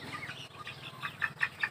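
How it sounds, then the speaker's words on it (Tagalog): A small chicken in a pen gives soft, quick clucks, a few short calls close by against faint background noise. "anong tawag dyan yung maliit na manok?"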